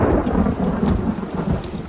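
Thunder rumbles low and steady through continuous heavy rain pattering on surfaces in the Netherlands, with no voices.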